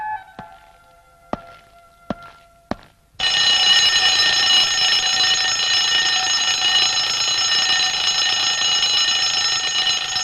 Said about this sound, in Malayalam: കാലത്ത് നാലു മണിക്കാണല്ലോ ഞാൻ അലാറം വെച്ചത്